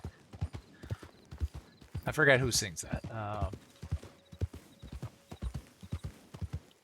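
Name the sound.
horse hooves clip-clopping, from video game Red Dead Online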